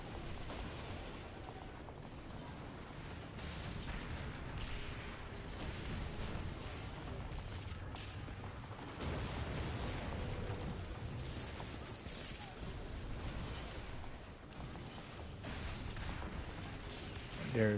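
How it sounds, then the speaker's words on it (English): Mortar fire aimed at helm rogues in the pirate naval game Skull and Bones, with repeated distant booms and rumbling blasts spread across the stretch, mixed with game noise. "you can just sit there and just mortar them from afar"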